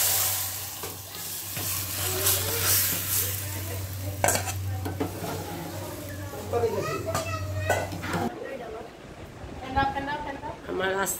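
Fried garlic, dried chilli, mustard seeds and nigella seeds sizzle in hot oil as a tempering for a green mango and chicken sour dish. The frying hiss runs steadily with stirring clinks, while someone talks over it.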